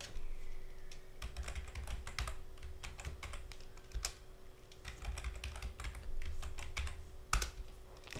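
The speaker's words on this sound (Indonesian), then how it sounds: "Kita bisa ganti passwordnya dengan cara kita ketik aja passwd root, kita enter, masukkan password barunya" A computer keyboard typed on to enter a command for changing a server password, heard as a quiet, close patter of irregular key clicks with a few louder taps across about eight seconds.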